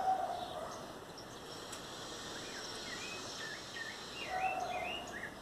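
Sabiá thrushes sing faintly in a backyard on a spring morning, with scattered short chirps and warbles rising over a steady hiss of insects and distant ambient noise.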